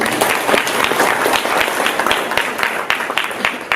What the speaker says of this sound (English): Let's give yourself a round of applause.